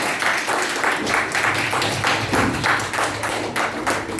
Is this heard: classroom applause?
yes